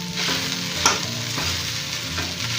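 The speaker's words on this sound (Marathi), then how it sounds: "बटाटा आधी हा फ्राय करून घ्यायचा असं सोनेरी, साबुदाणा त्याच्यामध्ये टाकून घ्यायचा" Potato fried golden with sabudana in a pan, a steady close sizzle broken by a few sharp scraping stir strokes, no talking.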